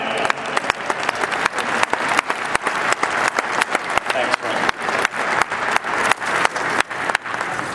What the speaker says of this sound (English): can we give all the veterans in the audience a big round of applause?